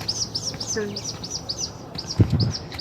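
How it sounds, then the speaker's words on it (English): Small songbird in the game Life is Strange True Colors chirps in repeated short, high tweets over a soft outdoor ambience, with a few faint knocks near the end. "There's the bird."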